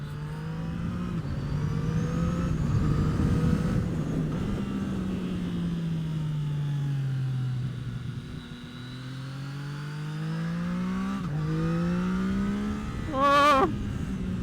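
A Yamaha MT-09 motorcycle is ridden over bumpy ground, its engine rising and falling in pitch as the rider rolls the throttle on and off, steady and close, with a brief sharp burst near the end.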